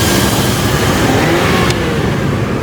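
A car engine with a slight misfire runs loud and close with a continuous throaty rumble, holding a steady revving drone the whole time.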